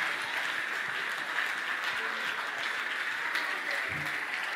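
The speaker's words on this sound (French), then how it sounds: "On nous acclame maintenant." A church congregation claps steadily throughout, with dense, continuous applause and voices underneath.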